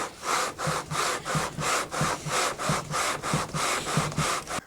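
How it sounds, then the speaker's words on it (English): Rhythmic back-and-forth sanding of a guitar fretboard with 80-grit sandpaper, about a dozen steady strokes in a row, close and fairly loud, no voices. "I'll change over to 80 grit and we'll draw the fretboard up and start double checking for even sanding"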